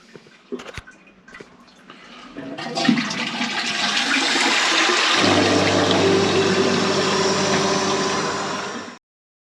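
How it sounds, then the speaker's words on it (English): Saniflo macerator toilet being flushed, with water rushing loudly and the macerator pump motor starting midway and droning steadily alongside the flow before cutting off abruptly. "We'll give it another flush just to double check everywhere."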